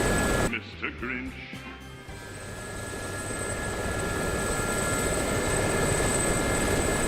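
An Mi-24 helicopter in a PvP combat flight game drones on with a steady rotor and engine roar that builds gradually, after a brief burst of clattering effects near the start.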